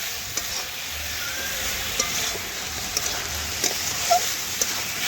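Chicken with green chillies is stirred in a hot pan, giving a loud, even sizzle broken by light scraping clicks of the spoon at irregular intervals.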